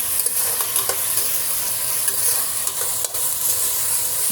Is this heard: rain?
no